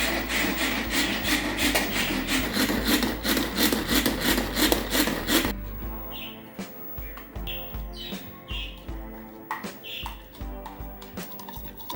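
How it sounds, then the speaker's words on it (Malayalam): Garlic is crushed in a kitchen chopper: fast rhythmic grinding and rasping strokes for about five seconds, then lighter scattered clicks and taps, fairly close. "വെളുത്തുള്ളി ചതയ്ക്കുന്നതാണ് ചോപ്പർ"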